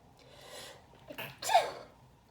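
A single sharp sneeze, preceded by a short intake of breath, fairly close and alone with no talking.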